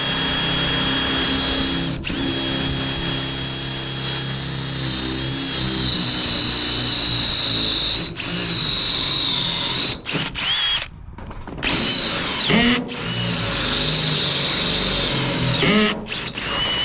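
A power drill bores a hole during a pressure washing truck build, a loud sustained whine close by with brief stops and restarts, the motor dropping out for a second near the end before spinning up again.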